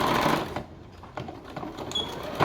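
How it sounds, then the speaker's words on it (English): Sewing machine stitching stretch fabric while attaching a Paw Patrol appliqué to a T-shirt, a steady close mechanical whir with short pauses and restarts. "because I'm using stretch fabric, I just stretch that a little bit as I sew"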